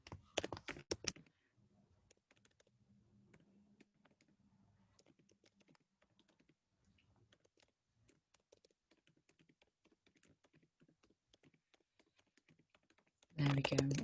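Light, scattered clicks of typing on a computer keyboard, faint and intermittent, with a brief louder burst of other sound at the start and end.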